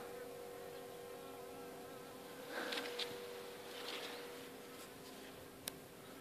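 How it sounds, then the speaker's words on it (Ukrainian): Honeybees buzzing around the entrance of a hive wintering outdoors, a steady soft hum of several insects with a few louder passes close by, no talking. "Також бджілка перша залетіла туди"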